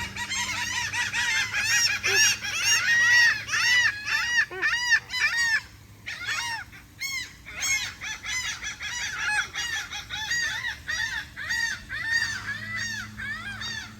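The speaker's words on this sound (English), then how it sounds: "Noisy birds." Flock of flamingos in a Florida jungle garden calling noisily and continuously, a dense overlapping chorus of honking, goose-like squawks close by, with a brief lull midway before the racket resumes.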